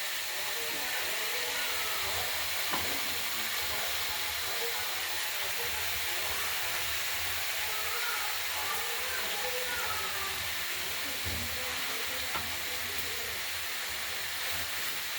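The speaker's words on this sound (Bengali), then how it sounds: "পেঁয়াজ কলি আর আলুগুলো দিয়ে দিচ্ছি, এগুলো ভাজা করব।" Spring onions and potatoes frying in hot oil in a kadai give a steady, even hiss with faint crackles throughout.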